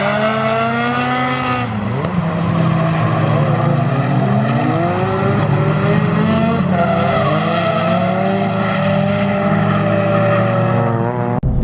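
Drift car, rumored to be a Nissan S15, taking a very fast corner entry in third gear, then second, on a track. Its engine roars and climbs in pitch, the note wavers as tires squeal and skid, and the car stays close and loud throughout.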